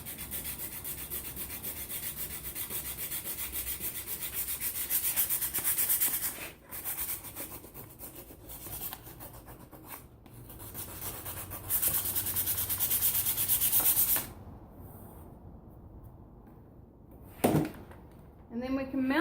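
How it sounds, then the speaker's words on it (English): Hand sanding a wooden circle jig for a router or jigsaw, a steady dry rubbing scratch in long continuous strokes with brief pauses, close up and fairly loud. "I'm going to give that a bit of a sand as well"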